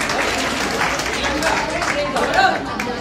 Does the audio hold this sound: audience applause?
yes